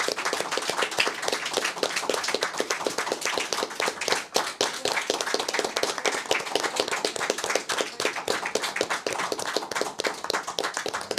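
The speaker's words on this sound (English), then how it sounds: "Let's give another big round of applause to our panelists." Sustained applause from a crowd at the close of a press conference on election fraud in the South Korean presidential election, dense steady clapping filling the whole stretch with one brief dip midway.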